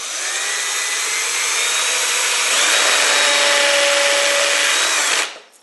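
A power drill with a 14mm bit whines continuously at close range for several seconds, boring into plasterboard with a steady high grinding pitch, then cuts off abruptly.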